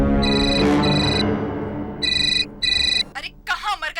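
Telephone ringtone in a Hindi CID crime drama episode trills in repeated electronic bursts through a background music bed, followed by brief rustling sounds as the call is answered.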